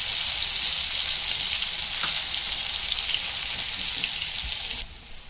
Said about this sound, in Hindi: ये देखो, अभी प्याज डाल दिए।